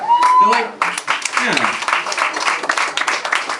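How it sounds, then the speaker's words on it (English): A comedy club audience breaks into loud, sustained applause and cheering at a stand-up show, following a brief shout from the performer. "Come on, big round of applause."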